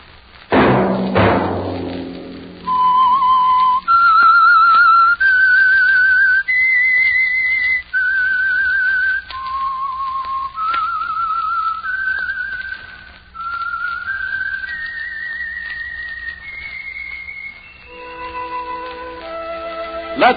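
A lone performer whistles the eerie theme of The Whistler radio program, a clear melodic line of sustained notes stepping up and down for about twenty seconds, loud and close after a soft opening thump.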